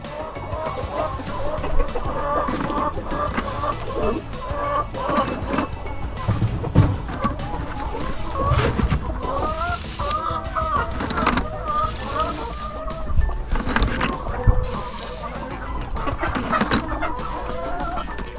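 Hens cluck and murmur continuously on a homestead flock of over two hundred chickens, many overlapping calls with occasional louder squawks, while a person talks over the din.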